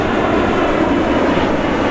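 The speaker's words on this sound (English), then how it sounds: "what kind of beach is this where you just have planes taking off every 2 minutes, almost taking your head off?" Fixed-wing airplane taking off low over a California beach: a loud, continuous, broadband engine roar that holds steady and close throughout, with no talk.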